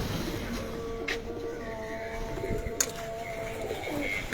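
Pigeons coo softly in a loft setup, low murmuring calls repeating under a faint background hum, with a couple of brief sharp clicks nearby.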